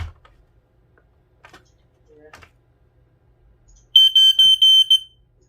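After a few quiet clicks and taps, a loud, piercing photoelectric smoke alarm beeps in rapid pulses during a test, about six shrill bursts in a row, close by.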